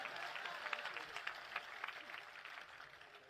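An audience at a Hindi poetry recital claps in a rolling, faint burst of applause, with dense hand claps blending into a steady wash that tapers off.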